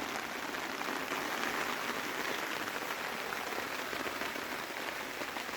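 Steady rain pattering on the fabric of a OneTigris Backwoods Bungalow tent, an even, continuous hiss of drops close overhead with no pauses and no voices.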